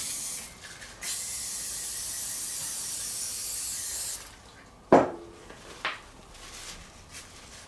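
Cleaner sprays onto a bicycle wheel hub's centre shaft in hissing bursts, a longer spray at the start followed by a couple of short sharp clicks and squirts, fairly quiet and close.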